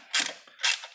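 Ratchet tightening plastic intake manifold bolts on an LY6 6.0 engine, two quick clicking bursts close by.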